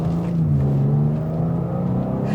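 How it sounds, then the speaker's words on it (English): A BMW G87 M2 engine hums and revs steadily at close range in efficient mode, a smooth sustained drone with slight rises in pitch. "listen to the engine"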